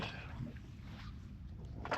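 A small 5-metre motorboat with a 60 hp Suzuki outboard runs at sea off Antalya, giving a steady low engine drone with water and wind noise throughout, a brief louder splash near the end.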